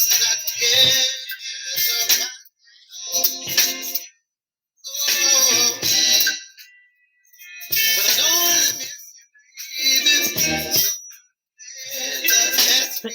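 Music playing through a Bluetooth earphone, heard in bursts of tinny, bright playback separated by short silences, loud and close with no talk over it.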